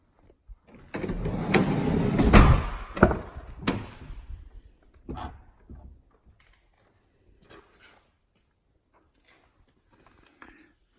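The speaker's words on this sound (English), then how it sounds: "This one also has a very, very useful driver side sliding door" A sliding side door on a 2018 Volkswagen Transporter T6 Highline LWB van rolls along its track and shuts with a loud thud near the start, followed by a few fainter clicks and knocks.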